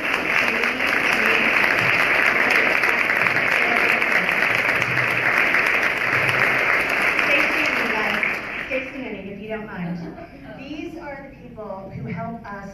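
An audience at a women in business awards ceremony applauds loudly and steadily for about eight seconds, then the clapping thins out and fades as a voice starts speaking.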